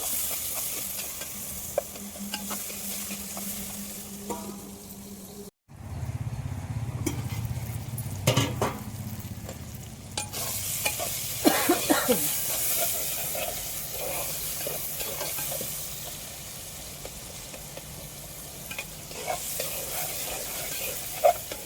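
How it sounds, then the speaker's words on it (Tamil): Okra (lady's finger) sautéing in a pan for a Tamil-style curry, a steady sizzle and hiss with occasional stirring scrapes and clinks, continuous and fairly close, briefly cutting out near the start before resuming. "வெண்டைக்காய் வதக்கி வச்சுருக்காங்க ஃப்ரெண்ட்ஸ்"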